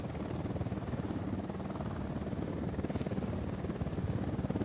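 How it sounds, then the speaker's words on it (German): An Unidad helicopter flies in the game Ghost Recon Wildlands, its rotor beating in a steady, fast low thump that holds at a constant loudness without any talking. "Lass mal den Unidad-Helikopter erstmal weiterfliegen."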